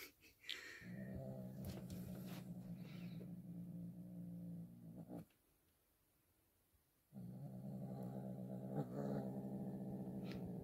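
Low, sustained growling from a kitten, close and fairly quiet, in two long stretches separated by a brief silence, with faint breathy hissing edges.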